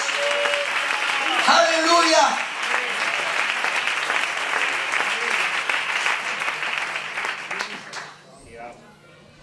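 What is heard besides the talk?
congregation applauding in church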